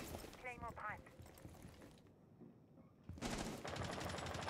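Gunfire in Rainbow Six Siege crackles in rapid bursts, briefly dropping away before another loud volley resumes; a voice is heard briefly over the shooting.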